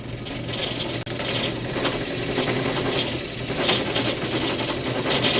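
A steady mechanical whir and grinding rasp of a drill press boring into a wooden yo-yo, continuous and close, with a brief dropout near the start.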